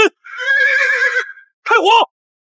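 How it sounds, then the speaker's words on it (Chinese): A horse in a herd gives a loud, close neigh, then after a short pause a second shorter whinny, with nothing else around them. "拦住马群，快拦住他们！"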